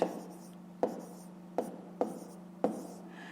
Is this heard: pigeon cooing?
no